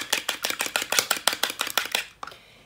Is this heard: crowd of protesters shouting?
no